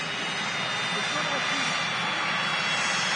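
A jet airliner roars at Manchester Airport, a broad, steady engine rush filling the whole clip, close and loud, with no pauses.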